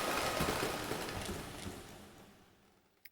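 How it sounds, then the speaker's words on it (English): A forward-playing synth sweep effect with a reverb tail swells as a bright, broadband wash and fades over about three seconds, with a faint clattering texture and a short click at the very end. "it would make a whole lot more sense to have the sweep sound play forward"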